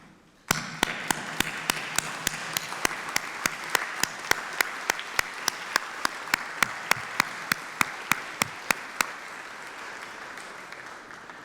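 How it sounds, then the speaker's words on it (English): Graduates at a university graduation ceremony stand and applaud their friends and family, a continuous hall-wide clapping punctuated by sharp, evenly spaced loud claps close by. "if all of our graduates can just stand up and give their friends and family a round of applause"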